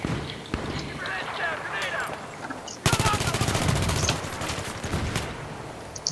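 Rapid automatic gunfire from a weapon in the video game Battlefield 3, with dense bursts of shots mixed into loud game noise and a person talking over it throughout.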